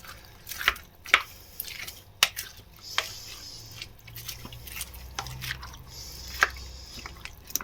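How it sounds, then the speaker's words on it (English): Spoon stirring a pot of curry made from leftover kitchen ingredients, soft wet squishes and scattered sharp clicks of utensil against the pot at an irregular pace, close and fairly quiet. "Give it a good stir around again."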